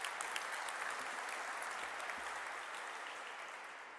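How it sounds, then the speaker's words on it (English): Sustained audience applause at a Virgin Galactic commercial astronaut wings ceremony at Mojave Air and Spaceport, a steady dense patter of many hands that holds throughout and eases slightly toward the end. "I think you deserve another round of applause."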